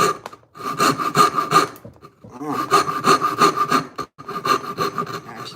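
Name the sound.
hand saw cutting wood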